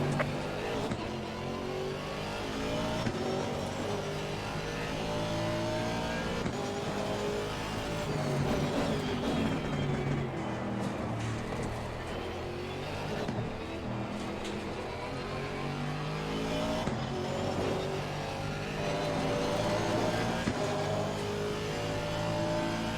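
GT3 race cars lapping Misano in the sim racing game Assetto Corsa Competizione, a steady engine drone with rising and falling revs as the car accelerates and shifts, continuous and close throughout.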